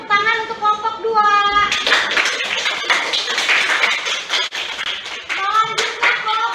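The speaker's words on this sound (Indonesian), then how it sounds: "Beri tepuk tangan untuk kelompok 2." Children in a classroom clap together for a group of classmates, with rhythmic, close handclaps over lively chatter and a teacher's voice.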